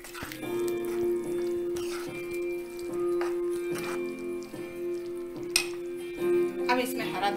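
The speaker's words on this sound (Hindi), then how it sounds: "ये पनीर डाल देंगे और इसको 1 मिनट के लिए पकाएंगे" Paneer pieces cook in a pan of curry masala, with intermittent stirring and light clinks of utensil against the pan under a steady low sizzle, close and moderately loud.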